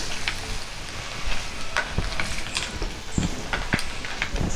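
Clams cooking in a pan with coconut, a steady soft sizzle with scattered crackles and light scraping ticks as they are stirred, close and unaccompanied by talk.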